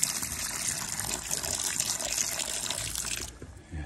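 A livestock guardian dog gulps water steadily from a bowl or trough, a close, continuous splashing and lapping that runs for about three seconds and then stops abruptly.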